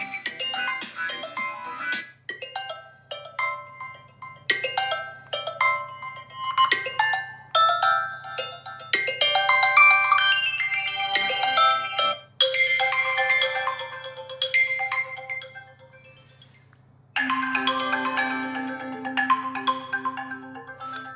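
A series of different ringtones plays loudly through the dual speakers of a Vivo X200t phone, melodic chiming phrases following one another with brief gaps and no talking.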